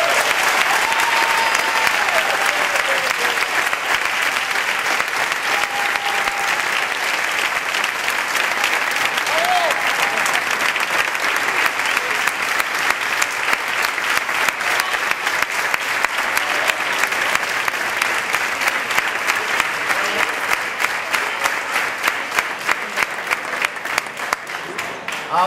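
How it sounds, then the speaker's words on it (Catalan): Sustained applause from a crowd at a Catalan castellers gathering of the Capgrossos de Mataró, honouring a remembered member, steady and dense throughout with no talk over it. "demanaria un aplaudiment pel seu record."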